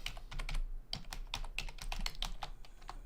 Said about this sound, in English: And so I'm just typing that in right there to him directly